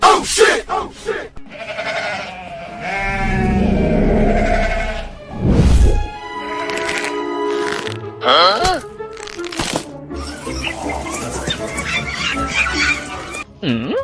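Cartoon goats bleating loudly and repeatedly in close, wavering cries, with squawky animal calls mixed among them and a voice speaking between bursts.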